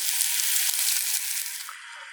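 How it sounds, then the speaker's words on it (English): Prime rib sears in a hot pan with a steady, hissing sizzle, close and continuous, easing slightly softer toward the end. "When the sizzle really starts to die down and get softer, it's the time to check it and probably turn it."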